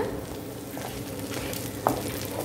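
Black pepper, curry leaves and garlic sautéing in a pan, a steady sizzle with light scraping and stirring and one sharper clink near the end, close and fairly clear, no speech.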